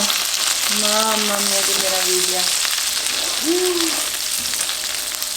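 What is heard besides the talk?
gnocchi frying in a pan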